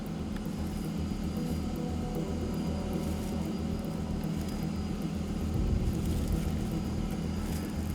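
A drone filming a rescue after a paramotor crash, flying near trees, gives off a steady, continuous buzzing whine that holds a nearly constant level throughout, with no voices.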